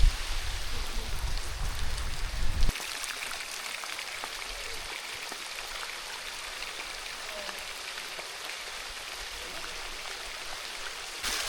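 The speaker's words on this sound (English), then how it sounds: "It started raining up here at the top" Rain falls steadily at the top of Natural Bridge in Kentucky's Red River Gorge, a soft, even hiss of drops on rock and foliage. A brief louder rumble opens it, then the patter continues quietly throughout.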